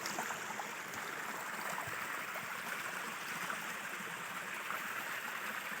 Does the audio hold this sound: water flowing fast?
yes